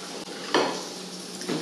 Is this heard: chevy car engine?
no